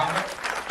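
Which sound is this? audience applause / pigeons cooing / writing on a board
audience applause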